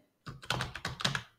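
Quick bursts of typing on a computer keyboard as a MySQL check command is entered in a terminal, several close, clicky keystroke clusters in a short run with no talking.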